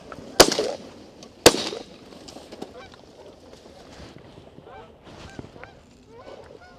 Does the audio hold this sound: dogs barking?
no